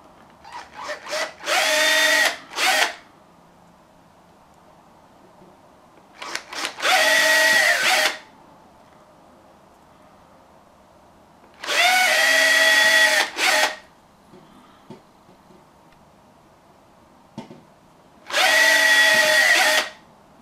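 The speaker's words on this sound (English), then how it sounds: "Got 1 millimeter drill bit." A small power drill fitted with a 1 millimeter bit whines in four separate bursts of about a second or two, loud and close, with quiet pauses between them, while holes are made for a UHF transmitter build.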